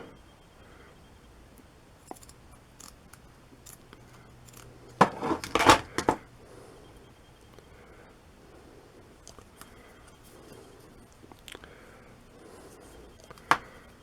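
Filament tape cut off the roll in one close burst of sharp snipping and crinkling, with a few faint clicks and taps around it in an otherwise quiet room.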